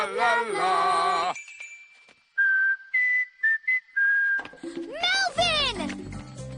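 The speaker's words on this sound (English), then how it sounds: "Melvin might whistle back." A cartoon character whistles back from a crowd in an animated children's show about migration, a series of short, clear tonal whistle notes following a brief stretch of speech, with voices returning right afterward.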